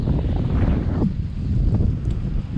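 Wind gusts across a beach shoal while fishing for fluke, a loud and steady roar buffeting the microphone for the whole stretch, with no voices.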